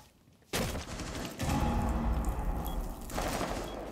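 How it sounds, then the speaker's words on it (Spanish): Gunfire from a video game shotgun erupts suddenly after a quiet moment, then continues as dense, loud bursts of shots and impacts with a short pause before a final flurry. "Pégale con la escopeta, Kai."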